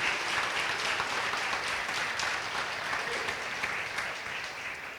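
A church congregation applauds, a dense, even wash of many hands clapping at moderate distance that holds for several seconds and then begins to fade.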